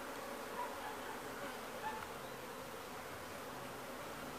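A swarm of bees being transferred into a standard hive gives a faint, continuous buzzing drone, with an occasional single bee flying close.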